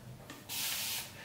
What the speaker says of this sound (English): 360 mist sprayer and I'm going to spray